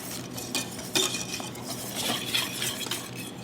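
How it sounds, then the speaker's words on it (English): Cake batter and milk mixture being stirred together in a pot or bowl before warming on the stove, with soft repeated scraping and light utensil clinks, close and steady. "I'm just gonna mix this together"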